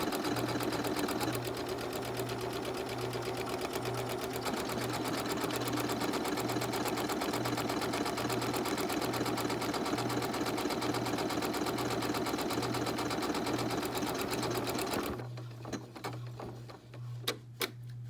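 A Janome MC9850 sewing machine automatically stitches a buttonhole, running steadily with a rapid mechanical whir and pulsing rhythm for about fifteen seconds, then stopping with a few clicks, close and loud.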